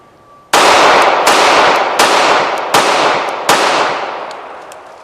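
Five sharp, loud gunshots from a Ruger Security 380 compact pistol crack out one after another at a steady pace, each shot trailing into a long ringing echo with no talking.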